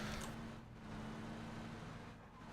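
A vehicle drives in a multiplayer shooter video game, a steady, low engine rumble and road noise at moderate distance, heard without any talking.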